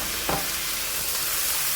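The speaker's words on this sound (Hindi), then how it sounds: "इसको थोड़ा सा हम चला लेंगे ताकि थोड़ा सा फ्राई हो जाए मीट" Meat frying with garlic and ginger in a pan, stirred briefly, giving a steady close hiss of sizzling with one short scraping stir near the start and no talk.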